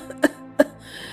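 A woman gives two short, sharp coughs in quick succession, close and clear, over a faint background hum.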